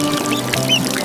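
A cartoon duckling on a farm gives a brief, loud quack over a busy animated soundtrack.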